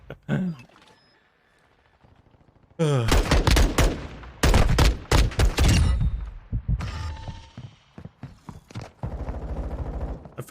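Gunfire in Call of Duty: Modern Warfare 2 (2022) comes as close rapid bursts of shots and clattering weapon mechanisms, with a quieter stretch of handling sounds before the firing starts.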